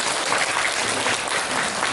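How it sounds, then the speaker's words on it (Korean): A church congregation applauds three siblings during a worship service with dense, even, sustained clapping from many people that fills the whole short stretch; nobody talks. "우리 박수 한번 쳐드려."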